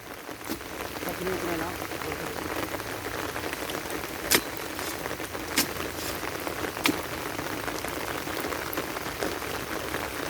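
Rain falls steadily outdoors in rural northeastern Thailand, a dense continuous hiss of drops with a few sharper taps and splashes now and then, heard at moderate distance and fairly faint.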